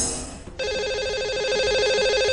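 Telephone ringing on a radio or TV call-in show as a caller is dialed, a steady repeating warbling ring tone that starts abruptly after a brief lull and continues loud and clear without talk.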